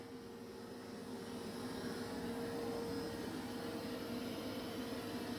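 A Dreame X60 Ultra robot vacuum running, a faint, steady motor whine and airflow hum that swells slightly and then holds constant, with no speech.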